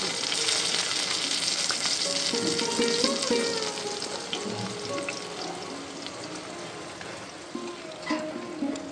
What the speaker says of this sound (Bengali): কুমড়ো পাতা চিকেন পাতুরিটা ভাজা হয়ে গেছে, এখন 2 পিঠই ভাজা হয়ে গেছে।